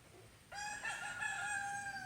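A rooster in a backyard garden crows once, a single sustained call rising and holding for over a second, heard at moderate distance over faint outdoor background.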